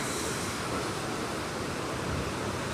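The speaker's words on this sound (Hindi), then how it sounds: "इतना तेज़ है ना वहाँ पे कि पता ही नहीं चल रहा है कि पानी गिर कहाँ रहा है" A powerful waterfall at Ram's Rainbow Point rushes with a dense, unbroken roar of falling water, with no voices heard.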